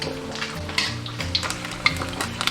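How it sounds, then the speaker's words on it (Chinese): Whole crucian carp deep-frying in hot oil over medium heat, a steady crackling sizzle with occasional sharper pops, fairly close and on its own without talk. "现在中火炸了5分钟，就可以给它翻面了。 这道菜这个鲫鱼炸一定要给它炸到位"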